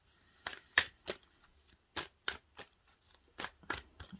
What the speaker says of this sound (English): can't shuffle today.